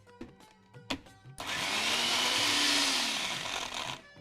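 A kitchen mixer grinder churning a thick paste, a few knocks and clicks followed by a loud steady whirring motor run that stops abruptly.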